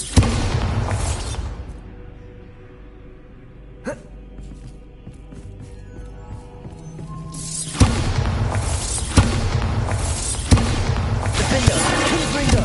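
Bombarda blasting spell explosions in Hogwarts Legacy, a loud boom at the start, a sharp bang near four seconds, then a dense stretch of repeated blasts and crashing debris later on, with a quiet gap between.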